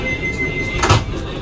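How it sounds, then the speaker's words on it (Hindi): Vande Bharat Express doors on the Delhi to Amritsar train slide shut with a brief, muffled thud over a steady interior hum, heard close by inside the carriage. "बंद हो गए दरवाजे।"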